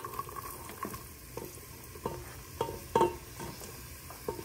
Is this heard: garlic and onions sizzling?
yes